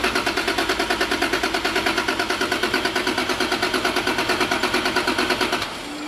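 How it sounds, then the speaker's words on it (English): A Toyota Supra engine cranking over on the starter to prime the turbo with oil, giving a fast, even, loud rhythmic churn for several seconds before it cuts off abruptly. "now I'm going to prime the turbo to make sure there's oil in the turbo before we start"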